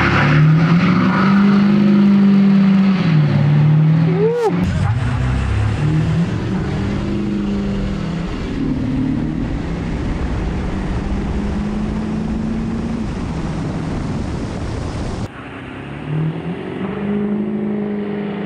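Chip-tuned cars accelerating hard side by side in a 30 mph rolling pull race, a loud sustained engine drone rising in pitch with a gear-change dip and a brief whoosh of passing wind.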